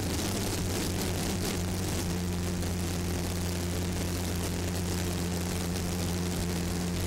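A Bell Jet Ranger 407 helicopter flies low over an offshore powerboat race near Key West Harbor, its loud steady rotor and engine drone mixing with roaring boat engines and wind throughout.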